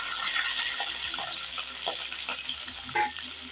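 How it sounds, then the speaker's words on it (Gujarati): Chopped capsicum sizzling in hot oil in a pan, a steady close frying hiss with small crackles and light stirring scrapes throughout. "તો આપણે આ તેલની અંદર જે કેપ્સિકમ કાપેલા છે આપણે સિમલા મરચાં એ આપણે આની અંદર નાખી દઈશું"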